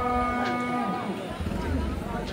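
A single long, loud moo from cattle at a large livestock market, close by, fading into the murmur of the surrounding crowd.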